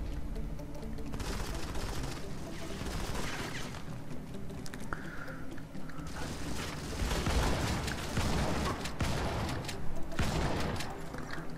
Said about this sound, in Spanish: Me hicieron ataque aéreo